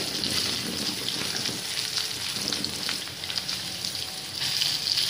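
Crushed garlic sizzles steadily in hot oil for a sweet-sour dal made with dry mango, a continuous close crackle that holds throughout with no talking.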